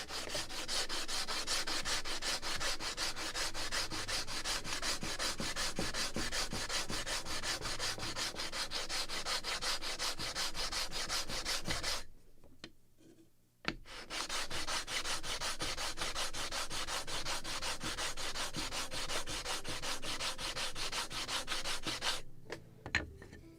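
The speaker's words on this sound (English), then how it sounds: "Just a little more sanding." Steady scraping of sandpaper on the wooden mast of a Model Shipways kit model of the 1776 gunboat Philadelphia, a continuous rhythmic rubbing that runs close and loud, pauses briefly for about a second, then resumes.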